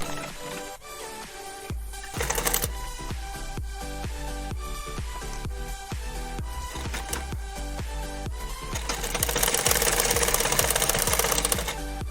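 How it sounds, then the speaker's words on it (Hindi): A sewing machine stitches a Hanuman idol's dhoti and patka in rapid, steady runs of needle strokes, with brief pauses between bursts and a louder, busier stretch toward the end; no voices. "यहाँ थोड़ा 2-3 बार सिलाई करके लॉक कर दो"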